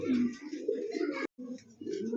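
A pair of Maltese pigeons coos in low, throaty rolling calls, close and steady, broken by one brief gap.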